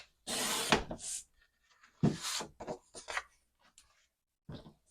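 A paper sheet being cut down to 6 by 6 for a gatefold folio: a few short, close bursts of scraping, rustling cuts separated by pauses, faint and with no voices.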